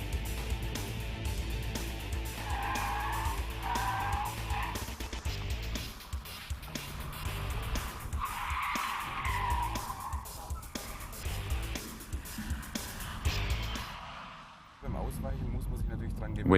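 A BMW Z4 Coupe or Porsche Cayman S skids through an avoidance maneuver on a test course without stability control, tires squealing in repeated bursts over a steady engine drone, with a person talking over it.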